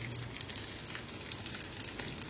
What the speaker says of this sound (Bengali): আমি কয়েক ব্যাচে এই মাছগুলোকে ভেজে নেব